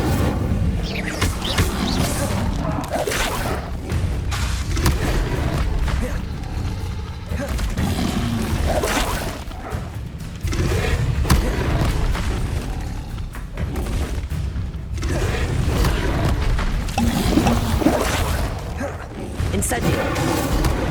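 Fire spells cast over and over in Hogwarts Legacy, heard as repeated whooshing bursts and booming thumps with mechanical rattles, dense and loud across the whole span, with battle noise underneath.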